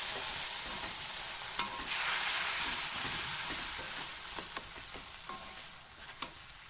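A splash of hot water hits frying spice paste in a pan, setting off a louder burst of sizzling that settles into a steady hiss with occasional stirring clicks, for a potato and egg chorchori.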